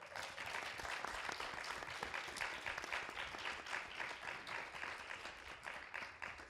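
Audience at a panel discussion on student protests in Serbia applauding, a soft, steady patter of many hands, fairly faint and even throughout.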